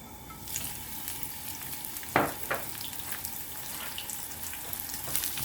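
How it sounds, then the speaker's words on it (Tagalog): Garlic and onion sizzling in cooking oil for pork adobo, a soft steady hiss with a sharp scrape or clatter around the middle, fairly quiet and without voices. "igisa lang yan hanggang sa mag-brown"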